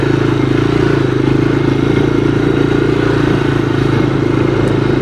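A 1985 Honda ATC250SX three-wheeler's engine idling loud and close, a steady low rumble with a faint whirring from the rear end underneath.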